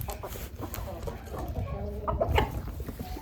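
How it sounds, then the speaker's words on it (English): Backyard farm chickens clucking in short, close calls mixed with scratchy rustling, while people talk quietly nearby. "They're making chicken noises."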